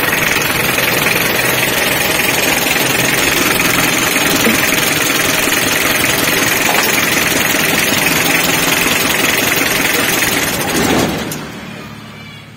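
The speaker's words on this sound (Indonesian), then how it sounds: "ketika kabel aki atau baterainya kita lepas, otomatis sebagian mesinnya mati seperti ini" Mitsubishi L300 engine running, a loud, steady, slightly knocking idle that holds for about eleven seconds, then partly dies and drops sharply in level once the battery is disconnected.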